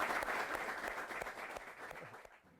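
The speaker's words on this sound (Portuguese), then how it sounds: "Vamos aplaudir?" An audience of boys applauds, a dense wash of clapping that holds steady, then thins and fades out near the end, with no talk over it.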